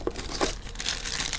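A plastic bag from a MegaSquirt engine-management kit for a Mazda MX-5 Miata crinkles in short, close bursts, with sharp rustles near the start and steadier crackling toward the end.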